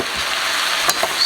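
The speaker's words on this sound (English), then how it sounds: "Stir that up." Mushrooms and onions stirred in a hot pan give a steady, close sizzle, with a couple of quick utensil scrapes near the end of the short burst.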